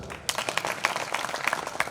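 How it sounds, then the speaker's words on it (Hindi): An audience at a poetry gathering for Atal ji's birth anniversary in Sukheda breaks into applause, a brief burst of moderately loud scattered clapping. "ताली बजा दो जोर से।"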